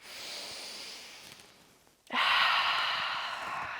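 Steady breathing during a yoga workout: a long, soft exhale that fades out, a brief pause, then a strong, airy inhale close to the mic that slowly tapers.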